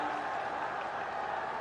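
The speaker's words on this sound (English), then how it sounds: "A relief in the crowd" A cricket Test match crowd between Pakistan and South Africa gives a brief burst of clapping and murmuring, a short, moderately loud wash of applause with no clear voices above it.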